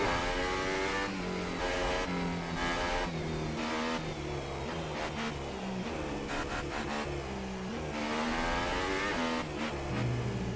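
Formula 1 cars leave the pits and head out on track in F1 2018 at the Chinese Grand Prix, several engines whining and revving through rising and falling gear changes, loud and continuous.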